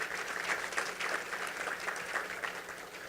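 Conference audience at a healthcare emergency preparedness summit giving a steady round of applause as a speaker walks to the stage, dense and even throughout.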